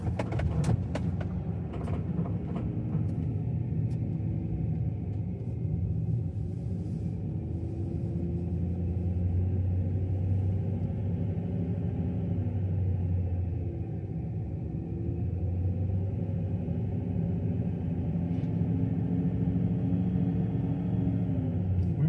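A van creeps slowly in first or second gear along a narrow cemetery road, giving a low, steady engine rumble with gentle rises in pitch and a few sharp clicks at the start, with no talking.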